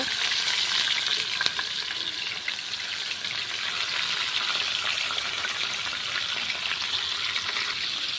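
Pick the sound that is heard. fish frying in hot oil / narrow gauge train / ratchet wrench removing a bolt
fish frying in hot oil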